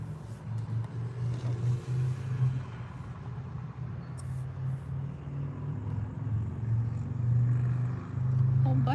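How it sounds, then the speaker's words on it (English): Motorcycles and semi trucks passing on a road while on a long drive toward New York, heard as a steady low engine drone and road rumble that swells near the end, continuous and fairly near with no talk. "Ton of motorcycles crossing through here."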